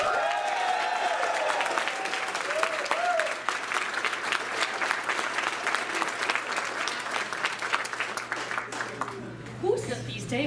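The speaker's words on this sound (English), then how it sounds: "can you please give a round of applause for one of your own" A room of officer candidates and guests at a military billet night claps loudly for one of their own, a dense, steady ovation lasting ten seconds that thins near the end as voices and cheers come through.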